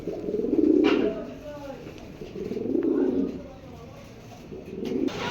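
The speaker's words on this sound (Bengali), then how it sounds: "এক জোড়া সিলভার কবুতর" A pair of silver pigeons coo nearby in slow, rolling phrases, three soft swells of cooing spaced a couple of seconds apart over a faint background.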